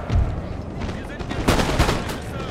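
Artillery and musket fire in Napoleon Total War ring out as loud, overlapping booms and crackling volleys, with two heavier blasts standing out against a dense battle din and a voice speaking over it.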